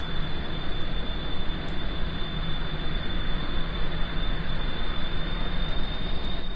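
Steady, moderately loud aircraft engine roar during takeoff in Kerbal Space Program, a continuous broadband drone with a thin high whine throughout, no talk.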